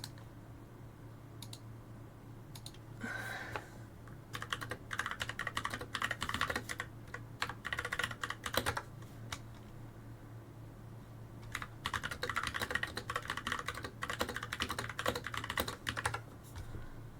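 Rapid bursts of typing on a computer keyboard, close and crisp, with irregular clusters of key clicks separated by short pauses over a low steady hum.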